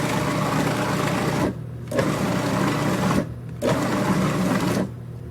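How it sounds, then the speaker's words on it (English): A food processor whirs in three bursts as it pulses chicken into a creamy mousse, each steady buzzing run cut by short pauses, close and loud. "Place the top on the food processor here, and we're going to buzz this until it turns into a nice creamy mousse."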